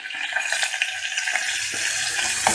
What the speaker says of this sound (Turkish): Kokusu çıkana kadar kavuracağım unu.